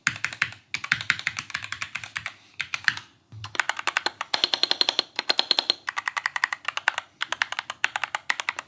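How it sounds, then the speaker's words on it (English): Rapid typing on a mechanical keyboard, crisp clacky keystrokes in quick bursts with a few brief pauses, close and clear with no voices. "I think the keys sound really good as well."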